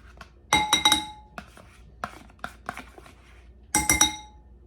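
Grape salad ingredients scooped with a utensil into a glass bowl: bright clinks and scrapes of metal on glass come in short clustered bursts, close and clear, separated by quiet gaps.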